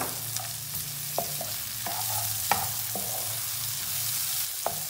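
Onions frying in a pan for vegetable pasta, a quiet constant sizzle with occasional scraping stirs spaced a second or so apart, close and alone.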